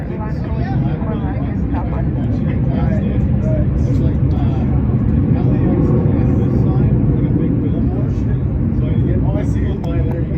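Southwest airliner departing LAX, its jet roar a steady, loud rumble that holds throughout while voices talk over it.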